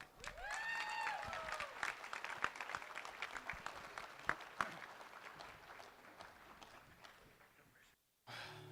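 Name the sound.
applause for the newlyweds at a wedding reception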